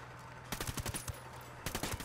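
Two short bursts of rapid automatic gunfire crack out in Ghost Recon Wildlands, each a cluster of sharp shots over a low game background hum, with a brief lull between them.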